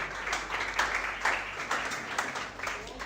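An audience at a parents and caregivers workshop claps to welcome a guest, a short burst of scattered, moderately close handclaps with a few voices underneath.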